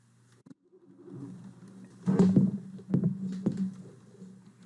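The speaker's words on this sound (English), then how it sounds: "We're going to let this car go first" In the American Truck Simulator game, a car drives past with a low engine hum that swells over a few seconds. Sharper bumps and clicks sit over the engine tone, then it fades.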